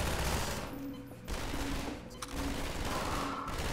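Automated turrets in the video game Half-Life 2 firing loud, sustained machine-gun bursts, broken by a couple of short pauses before the fire resumes.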